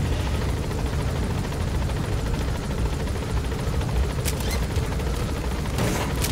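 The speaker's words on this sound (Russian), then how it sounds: "все-таки по базе можно на вертолете перемещаться" A military helicopter flies in Metal Gear Solid V: The Phantom Pain, its rotor giving a loud, steady, rumbling thrum that fills the whole stretch, with a few sharp crackling bursts near the end.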